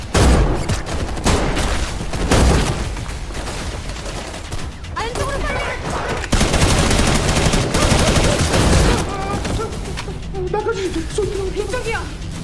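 Film gunfire as soldiers shoot down zombie soldiers with weapons, dense rapid volleys and bursts running throughout, loud and continuous, with a voice talking over the shots.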